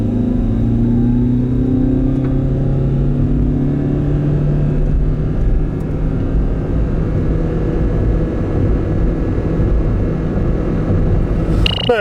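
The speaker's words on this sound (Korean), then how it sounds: "여기서 잠시 발진 가속 성능에 대해서 알아볼까요?" A 2018 Toyota Prius C makes a full-throttle launch from a standstill, heard from inside as a loud, steady engine hum that rises gradually in pitch, with a brief clatter right at the end.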